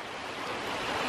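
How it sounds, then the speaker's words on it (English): Torrential rain pours down in Bangkok, Thailand, in a sudden heavy downpour, making a dense, steady roar with no voices. "Torrential rain, how's that?"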